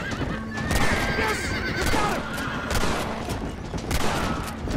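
A horse whinnies loudly several times in the Western video game Red Dead Redemption, with hooves clopping and gunfire rattling around it in a busy, close mix.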